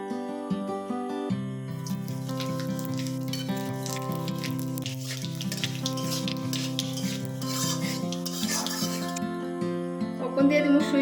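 Dry chili and kalijira tempering sizzles in hot oil in a home kitchen, a steady crackling hiss running for several seconds beneath prominent background music.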